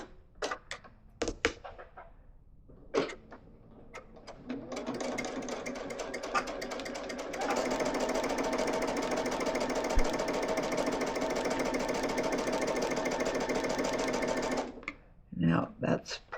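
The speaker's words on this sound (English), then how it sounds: "let's go ahead and get this underneath the sewing machine" A sewing machine stitches pinwheel quilt pieces, starting after a few handling clicks, running steadily for about ten seconds and speeding up midway before stopping, close and mechanical, with a voice talking at times.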